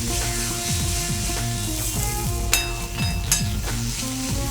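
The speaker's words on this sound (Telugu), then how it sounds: "ఇప్పుడు ఇందులో కొద్దిగా అల్లం వెల్లుల్లి పేస్ట్, అల్లం వెల్లుల్లి పేస్ట్ వేసిన తర్వాత లో ఫ్లేమ్లో కుక్ చేసేద్దాం." Ginger garlic paste fries with onions in a pan over a low flame, giving a steady soft sizzle with a couple of light utensil clinks, heard under melodic background music.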